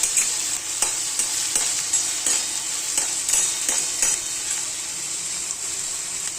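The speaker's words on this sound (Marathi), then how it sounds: "कांदा फ्राय व्हायला आहे ना 5 मिनिटं अवश्य लागतात." Onions fry in a pan for a dried tiny prawn dish, a constant bright sizzle broken by regular scraping stirs, close and steady with no speech.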